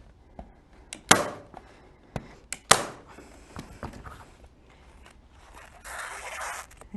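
A staple gun fires into fabric on the back of a window quilt valance: two sharp, close snaps about a second and a half apart, amid faint handling and rustling.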